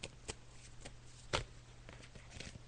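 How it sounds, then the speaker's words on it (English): Tarot cards being shuffled by hand give soft, close riffling and rustling with a few sharper slaps over a low steady hum, with no voices. "Okay, Sharon, so I'm just shuffling the cards now"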